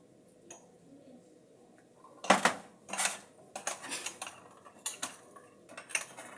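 Seasoning for Jamaican fried chicken is mixed in a bowl with a spoon, giving a run of close, irregular clinks and scraping taps against the dish at moderate volume, with no talk.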